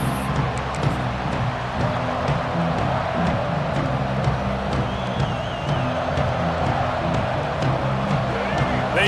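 A college football stadium crowd at an Oklahoma vs. Michigan game makes a steady, loud roar of cheering and babble, with a voice speaking over it.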